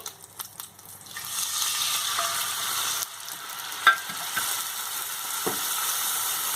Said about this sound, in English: beware, because this is going to sizzle